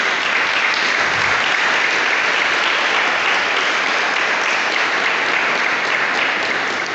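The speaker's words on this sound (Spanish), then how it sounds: "usted le da un aplauso al Señor Jesús" Sustained applause fills a church congregation, steady and dense without pause, a broad wash of clapping from many hands and no talk over it.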